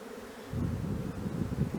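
Honeybees at the hive buzz in a dense, continuous hum that swells after a quiet start, close and fairly loud.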